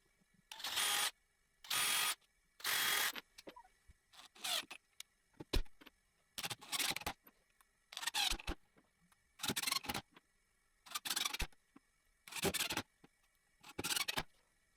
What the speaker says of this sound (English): Instead, I just attach it with fairly long screws.